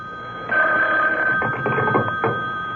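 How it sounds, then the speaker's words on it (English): Telephone rings in a dramatic radio-style scene, a steady electronic bell tone with repeated warbling bursts, fairly loud and close, no voices over it. "the phone rang."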